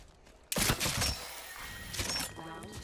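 A burst of rapid gunfire in the Apex Legends video game, with sharp loud shots in the first second, then a quieter second volley over a thin game background.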